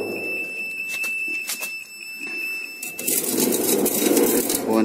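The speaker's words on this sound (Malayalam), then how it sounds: "കറക്റ്റ് പോയിന്റിൽ വന്നാൽ ബസർ അടിക്കും." The alignment buzzer of a Ku band satellite dish setup sounds as a steady high-pitched tone during slow turning, then stops as broadband rustling and handling noise take over, close to the microphone.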